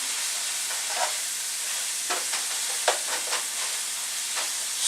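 Food stirred in a hot pan on a home kitchen stove, a continuous frying hiss with scattered scraping strokes and soft clinks from the utensil, close and moderately quiet, no talking.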